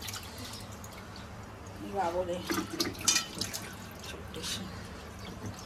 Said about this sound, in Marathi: धुतल्या कोलंबीला मस्तपैकी धुवायचंय स्वच्छ पाण्याचे